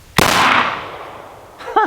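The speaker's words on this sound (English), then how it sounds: "Last round of the mag." A single close, loud shot from a Glock Gen 4 G19 compact 9mm pistol, the last round of the magazine, with a sharp crack and a ringing decay, followed by the start of a voice.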